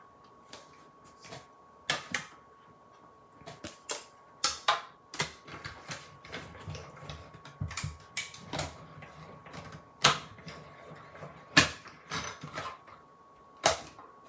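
Die cutting machine pressing through paper to cut out a small character shape for a mini book box craft, heard as a series of sharp, close clicks and clacks spaced irregularly over a low mechanical hum, with no talking.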